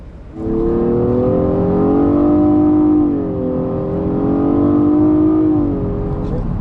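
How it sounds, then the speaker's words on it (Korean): A Nissan Maxima 3.5 engine hums steadily, its pitch rising and falling as revs climb and drop between downshifts under braking, loud and close. "브레이크를 밟으면서 감속할 때 기어를 내리면 회전수를 맞춰주는 실력 자체가 굉장히 좋습니다"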